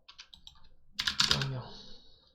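Key presses on a computer keyboard, including the F12 key, with a few light taps followed by a firmer cluster of clicks, quiet and close.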